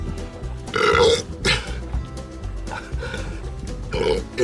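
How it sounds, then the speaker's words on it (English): Loud, throaty burps come in several bursts after shotgunning cans of Coca-Cola, close up, with rough gulping and breathing between them. "That last burp started tasting like barf."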